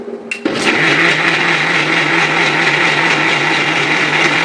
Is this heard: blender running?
yes